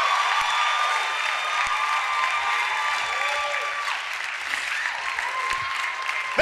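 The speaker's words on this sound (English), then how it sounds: "Stop clapping!" Enthusiastic audience applause at a live comedy juggling show, dense sustained clapping from a large crowd filling the room, loud and steady.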